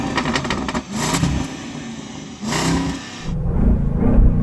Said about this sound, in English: So I'm going to rev up this beautiful English-built V8.